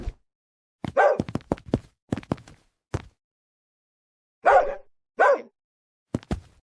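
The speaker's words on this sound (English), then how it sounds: "Every bark tells a story." Sharp dog barks come in irregular bursts, singly and in quick clusters, loud and close with silence between them.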